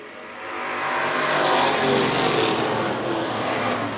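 Super Street race cars roar past on an oval track during a 100-lap event, a loud engine wash swelling to a peak and easing off as the pack passes.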